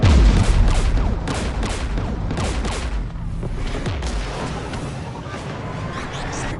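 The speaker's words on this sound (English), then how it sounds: "We're taking fire." Heavy gunfire rattles through a sci-fi shooter battle against the Geth, with rapid overlapping shots and booms, loud and dense, while a brief voice speaks amid the firing.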